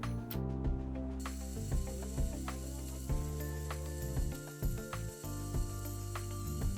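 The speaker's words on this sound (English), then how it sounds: "Gear changes are more precise and have a satisfying click when shifting." LEGO McLaren MCL39 model gearbox clicks sharply as gears are shifted, a run of crisp plastic ratchet snaps at an uneven rhythm, close and alone with a faint mechanical whir underneath.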